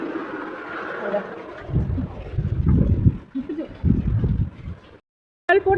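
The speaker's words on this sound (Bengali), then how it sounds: "কেমন জল পড়ছে দেখো, আর হাওয়া দিচ্ছে দেখো। বাবা কি হাওয়া!" Stormy wind and rain during a downpour after intense heat, gusty rumbling wind buffeting the microphone with rain hiss, cutting to silence briefly before resuming; a voice talks over it.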